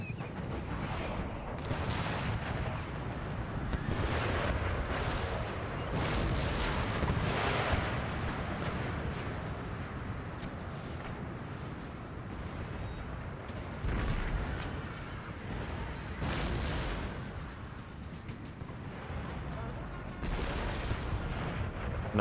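Musket volleys and artillery fire from a battle in the video game Empire: Total War, a dense, continuous roar of distant shots and booms with scattered louder bursts throughout, no voices.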